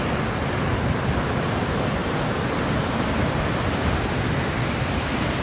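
A large waterfall at Livingstone thunders as a steady, dense, broadband roar, loud and unbroken throughout, with no voices.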